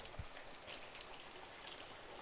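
Steady rain falls on an outdoor koi pond and its surroundings, a dense, even hiss of drops with no voices.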